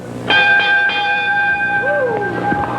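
A ringside bell at a 1979 Memphis wrestling match clangs loudly a few times in quick succession, its metallic tone lingering, with crowd noise behind it.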